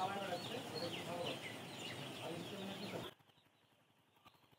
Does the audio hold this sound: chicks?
yes